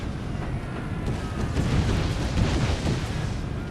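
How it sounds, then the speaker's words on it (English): Hand mortars firing in Empire: Total War, heard as a dense, continuous roar of booming blasts and rumble that swells slightly midway and holds steady, loud, with no talking. "let's see if those hand mortars get any damage"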